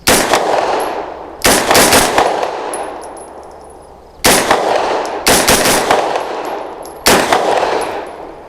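Rapid shots from an Extar EP9 Gen 2 direct-blowback large-format pistol firing Winchester white box ammunition, loud sharp cracks arriving in irregular spaced bursts with ringing decay between them.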